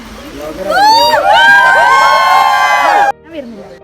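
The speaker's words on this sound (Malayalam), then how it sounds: "കയ്യടി" A group on a forest camping trip in the Elimbileri rainforest bursts into loud, close whooping and cheering with rising and falling shouts, then cuts off abruptly, leaving a brief softer voice.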